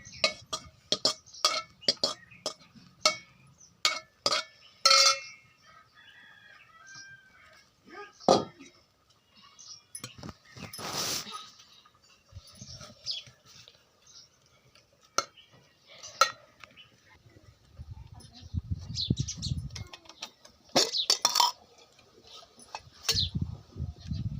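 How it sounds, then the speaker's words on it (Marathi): Cooked brinjal and green chickpeas get mashed in a metal pot, with a quick burst of clinks and knocks followed by scattered scraping, thuds and clatter, loud and close, with speech at times. "भाजी शिजून झाली आता, ती घुटून घेऊ. घोटता कढईत येणार नाही म्हणून पातेल्यात घेते."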